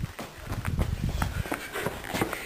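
Horses walking nearby with a steady, uneven clip-clop of hooves, the footfalls overlapping in a loose rhythm at close range.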